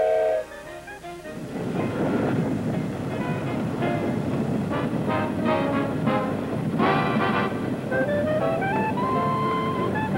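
A train rumbles past with a steady, loud roar of wheels on rails, accompanied by brief bursts of high-pitched whine or squeal.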